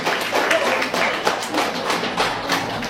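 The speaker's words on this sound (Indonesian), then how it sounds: "Tepuk tangan ya Bu." An audience at a women's seminar in Hong Kong claps, producing uneven, fairly close clapping with distinct sharp hand strikes, moderately loud and sustained throughout.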